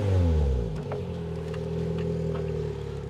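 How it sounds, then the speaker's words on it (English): A nearby Lotus Elise engine winds down from a brief rev, then hums at a steady idle with a slight rise and fall in pitch. "Give it a bit of a rev."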